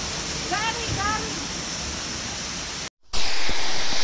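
Steady, loud rush of water at the Dizzy Falls waterfall, a dense continuous roar with a brief dropout near the end; a few faint chirps sit over it early on.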